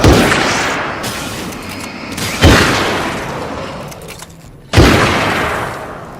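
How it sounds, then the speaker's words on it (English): Three heavy, booming hunter rifle shots from the video game Alan Wake's American Nightmare, evenly spaced about two seconds apart, each with a long echoing decay, and no speech. "And this hunter rifle does a lot of damage."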